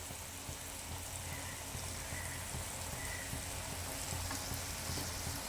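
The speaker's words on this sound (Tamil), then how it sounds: "உப்பு, மிளகாத்தூள், மஞ்சத்தூள் போட்டு நல்லா வதக்கிடுங்க" Mango pickle sautéing in a pan with salt, chili powder and turmeric powder, giving a soft, steady, continuous sizzle and crackle at low volume with no voices.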